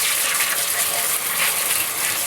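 Water gushes loudly and continuously as paint stripper is rinsed off a die-cast Cat 365BL excavator model body during repainting, a steady close rushing spray.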